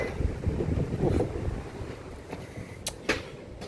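Gusty wind blows outdoors by a backyard koi pond, rumbling and buffeting the microphone in uneven surges.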